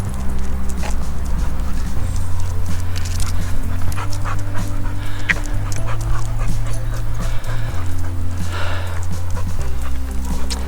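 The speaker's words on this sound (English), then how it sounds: "Sorry, there's a dog." A dog pants and gives short barks and whimpers close by, its noises rising over a steady low engine rumble with faint thuds in the background.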